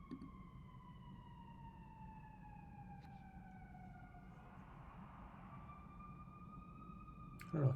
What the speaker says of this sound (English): I don't know if y'all can hear that ambulance back there.